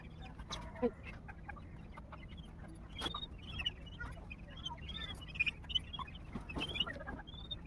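Chickens cluck softly and sporadically at a distance, with scattered faint bird calls and quiet rustling in the background.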